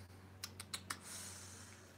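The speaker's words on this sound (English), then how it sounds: "Okay, I'm going to keep shuffling." Tarot cards are shuffled: four crisp taps in quick succession, then a soft brushing riffle, quiet and close with no voices.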